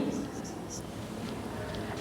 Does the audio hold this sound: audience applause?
no